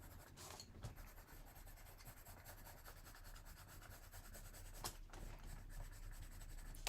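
Steady scratchy rubbing of a colored pencil shading on paper to deepen shadows, a close, continuous soft rasp with a few brief sharper strokes, no talking over it.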